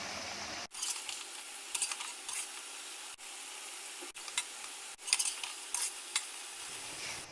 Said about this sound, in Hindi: गैस फुल पे कर देंगे अभी और इसको गोल्डन होने तक फ्राई करेंगे